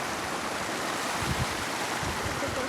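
Stream water flowing steadily on a hillside hiking trail near Dhampus, Nepal, a continuous close wash of rushing water with no voices.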